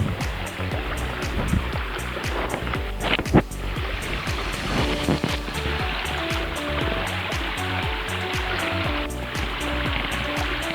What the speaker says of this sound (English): Lovely sound of water, which I really appreciate and like.